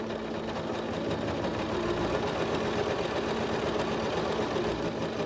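A SINGER SEWMATE 5400 sewing machine stitches a zipper into a skirt, its motor humming and the needle chattering rapidly in a steady, unbroken run heard close up.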